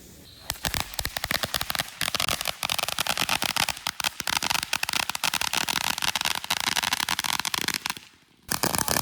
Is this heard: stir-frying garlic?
no